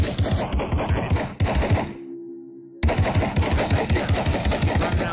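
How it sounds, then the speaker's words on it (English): Rapid, heavy blasts from a drum-magazine shotgun in the virtual-reality shooter Pavlov, fired in loud continuous bursts with a short break of near silence in the middle before the barrage resumes. "Now he has the drum shotty."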